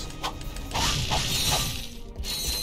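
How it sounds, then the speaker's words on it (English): A gate opens in Ratchet & Clank: Up Your Arsenal with a mechanical grinding and whirring, a few metallic clanks, and a louder surge mid-clip before it settles, heard over steady game ambience. "That gate opens."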